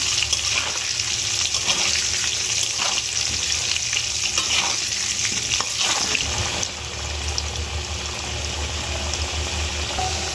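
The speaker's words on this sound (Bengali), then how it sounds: "আলুটা একটু লাল লাল করে ভেজে নেব" Potato pieces frying in oil with salt and turmeric for pulao, a dense, loud, continuous sizzle close up, with stirring and some watery splashing; the sizzle eases slightly near the end, no talking.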